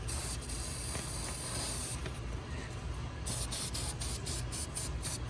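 An aerosol can sprays onto the bottom of a 6.0 Powerstroke fuel injector, a continuous close hiss that briefly dips and then resumes in short pulsing bursts.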